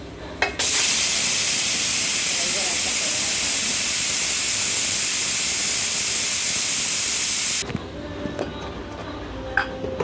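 A pressure cooker, after three whistles cooking dal, lets out a loud steady hiss of steam for several seconds close by, then cuts off abruptly, leaving light clinks.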